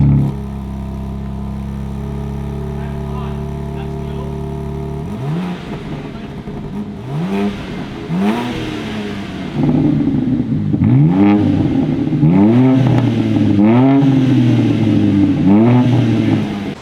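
A 2024 BMW M2 with a custom exhaust idles with a deep burble, then revs up repeatedly in rising, snarling bursts that grow louder and more aggressive.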